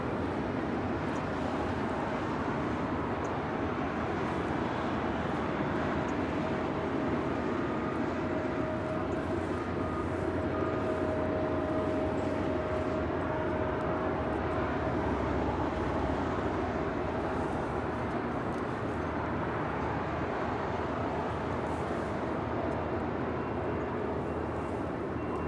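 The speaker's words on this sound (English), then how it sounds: "Big cute cargo 777. Making our way down taxiway Alpha here on the south side." A cargo Boeing 777 taxis along a taxiway at LAX, its engines a steady, moderate drone with a faint constant whine, heard from a distance and without talk.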